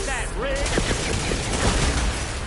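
Video game gunfire in Horizon 2: a dense, continuous volley of shots and impacts that stays loud and close throughout, with a short warbling tone near the start.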